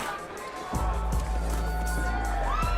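Boxing arena crowd roaring and cheering during a fight, a broad sustained swell that rises sharply after a quieter start and stays loud, with an announcer commentating over it.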